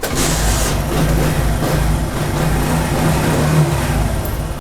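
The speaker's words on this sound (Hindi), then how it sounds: "अभी बटन ऑफ़ कर दिया है, अभी इंशाल्लाह स्टार्ट होगा मोटरसाइकिल।" Motorcycle engine running after an anti-theft kill switch is turned off, a loud close steady idle with a low rhythmic throb throughout, cutting off abruptly at the end.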